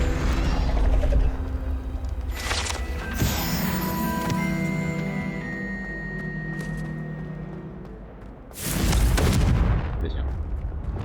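Loud booming spell blasts from the Confringo fire spell in Hogwarts Legacy, with a heavy explosion at the start and another around the end, mixed with whooshing magical effects and game tones.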